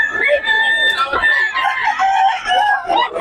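A rooster crows loudly and repeatedly at a busy outdoor market in Bocaue, with other chickens clucking nearby and people chattering in the background.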